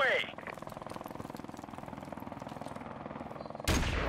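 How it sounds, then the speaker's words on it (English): A helicopter in the Call of Duty: Modern Warfare Remastered team deathmatch, a steady fast rotor chop running throughout with other game effects on top and a sharp burst near the end. "helicopter on the way."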